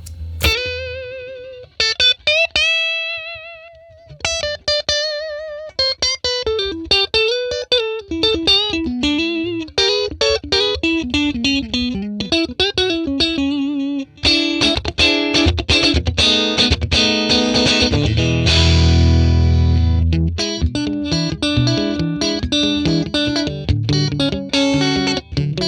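Electric guitar through a 1957 Tweed Bassman amp model with reverb off, played alone at edge-of-breakup gain: bright single notes and runs give way to fuller, gritty strummed chords and sustained crunch, loud and close.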